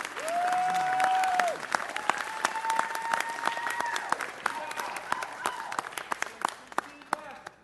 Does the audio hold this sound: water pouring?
no